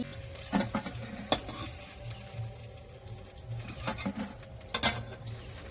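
Pumpkin leaf fritters fry in hot oil with a soft continuous sizzle, punctuated by occasional scraping stirs and clinks of a utensil, close and moderately quiet.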